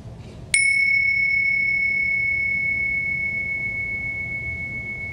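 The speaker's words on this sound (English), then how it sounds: "I'll just ring some bells" A meditation bell struck once during mindfulness practice, a clear bright ring with a sharp onset that sustains and slowly fades over several seconds against faint background noise.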